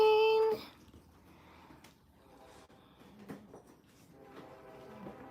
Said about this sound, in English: I hear the train.